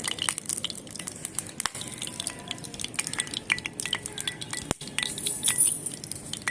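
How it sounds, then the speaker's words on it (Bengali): A tiny spatula stirring and scraping in a miniature toy cooking pot, giving light clinking taps and small metallic clicks in a steady, close, busy pattern without any talk. "ছোট্ট খুন্তি দিয়ে একটু নাড়িয়ে দিই"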